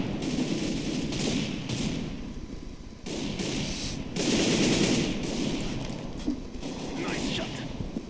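Automatic gunfire from Counter-Strike: Global Offensive rattles in long, loud, continuous bursts with brief breaks, a dense rapid stream of shots dominating the scene, with possible faint talk underneath.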